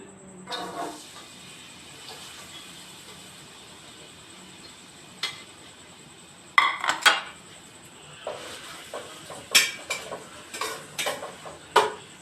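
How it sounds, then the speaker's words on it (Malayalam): Bitter gourd sautés in ghee over a low flame in a pan, with a faint hiss and scattered metallic clinks and scrapes from a spatula, clustering into quick bursts near the end. "പാവയ്ക്ക ഇട്ട് നമ്മൾ അത് നന്നായിട്ട് വഴറ്റാൻ പോവുകയാണ്."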